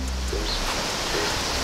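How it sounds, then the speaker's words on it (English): Wind blowing outdoors, a steady loud broadband rush buffeting close to the microphone throughout the short stretch, with no other distinct sounds. "I'm sorry that it's windy too"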